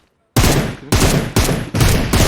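Rapid automatic gunfire in the PUBG Mobile shooter game comes in four loud, close bursts in quick succession after a short silence.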